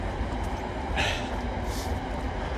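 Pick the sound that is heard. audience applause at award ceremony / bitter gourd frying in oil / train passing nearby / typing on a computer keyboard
train passing nearby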